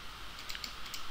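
Brief burst of quick, faint keystrokes on a computer keyboard as a number is entered into a spreadsheet.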